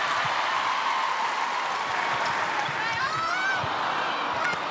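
Crowd cheering at a netball major semi final between Vixens and Fever, a steady dense roar of voices and whistles filling the arena throughout, with faint court sounds beneath.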